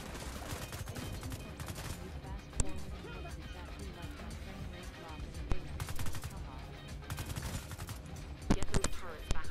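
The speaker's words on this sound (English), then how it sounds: "listen to the gunfire" Gunfire in The Division 2 video game, with dense rapid bursts of shots and sharp cracks over a continuous game soundtrack and effects, several louder volleys near the end.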